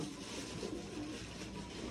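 Pigeons coo softly in low, throaty murmurs over a steady background hiss, faint and somewhat distant, while drinking water.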